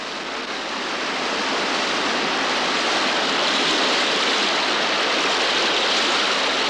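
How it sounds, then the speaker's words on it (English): Dolgoch waterfall pours in three cascading falls, a dense, steady roar of rushing water that swells slightly at the start then holds constant and close, with no voices. "only the sound of a mighty head of water, cascading in 3 great falls, hints at the spectacular splendor below"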